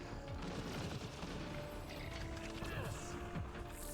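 Enemy gunfire in a sci-fi video game arrives in rapid, crackling bursts, fairly quiet and dense, mixed with game effects while someone talks over it.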